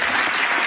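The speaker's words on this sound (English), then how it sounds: "And they're all applauding." A large audience at a political speech on illegal immigration claps in a steady, dense wash of applause, loud and sustained with no pauses or voices standing out.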